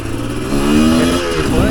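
A Chinese dirt bike engine revs up, a rising buzzy drone close to the microphone, steady and loud for a moment with no talk over it.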